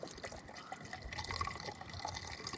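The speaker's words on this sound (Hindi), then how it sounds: "और ये मैं इसमें पानी डाल रहा हूँ ताकि ये फुल हो जाए।" Water pours steadily into the radiator coolant bottle of a Tata Safari during a repair, a continuous close gurgling fill with dripping and splashing and no talk.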